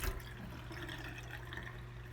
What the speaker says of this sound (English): We've got our sink that drains really good.